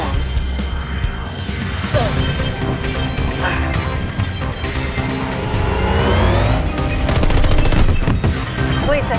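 Rapid gunfire bursts from shooting during a fast vehicle chase, loud and dense, tangled with driving engine noise, crashes and a dramatic orchestral score throughout.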